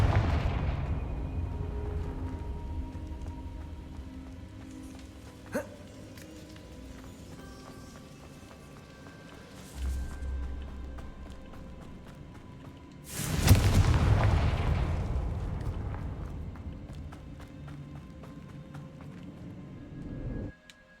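Confringo blasting spells fire in the Hogwarts Legacy video game, sending out a heavy booming explosion midway and a second big roaring blast later, over a low rumbling game background with scattered clatter.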